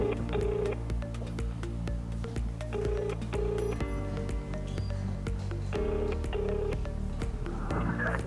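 Telephone keypad dialing tones sound as short paired beeps in small clusters, set over a low steady hum while a call is placed.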